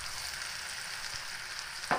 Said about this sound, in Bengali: এবার নাড়তে থাকবো, পেঁয়াজটা ভাজা ভাজা করবো আলুর সাথে।